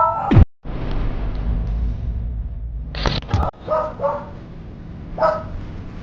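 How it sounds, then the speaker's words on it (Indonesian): A dog barks several times at irregular intervals, sharp and fairly close, with a low steady hum underneath. "kenapa ada anjing terus menggonggong ya?"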